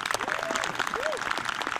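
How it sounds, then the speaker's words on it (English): Audience applauding student musicians at a school end-of-year music celebration, a steady roomful of clapping with a few whoops and cheers rising above it, continuous for the whole stretch. "So give these kids a round of applause"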